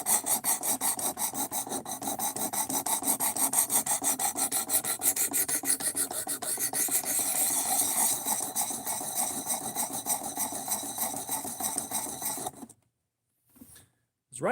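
A D2 steel knife blade is drawn over a sharpening stone in rapid, rhythmic rasping strokes that are close and steady for about twelve seconds, then stop abruptly and leave near silence with a few faint touches.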